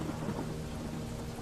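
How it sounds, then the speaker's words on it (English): A rainstorm with thunder, played as a sound effect in an audio story about driving through the rain. Steady, dense rain and a low, rolling rumble fill the short stretch without break, and no voice is heard. "It's raining."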